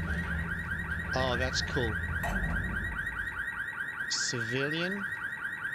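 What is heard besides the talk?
car alarm in the video game Ready or Not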